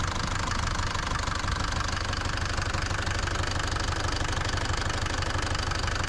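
A Mercedes 208 van engine runs at a steady idle, close and loud, with a rough knocking rumble and no pauses.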